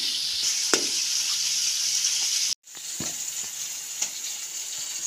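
Amla (Indian gooseberries) frying in a pan give off a steady, close sizzle with a few small pops and stir clicks, cut by a brief silent gap partway through.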